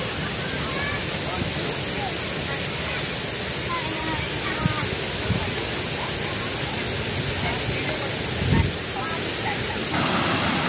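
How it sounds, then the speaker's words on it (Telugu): A small waterfall at Nehru Zoological Park pours in a steady, dense rush of water that stays loud and even throughout, with a few faint thumps and background murmur underneath. "చిన్న వాటర్ ఫాల్స్ అనమాట."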